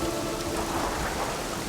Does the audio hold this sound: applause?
no